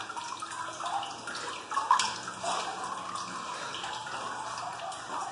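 Steady rushing splash of a man-made indoor waterfall at a sightseeing attraction, heard nearby as a continuous wash of falling water with no one talking.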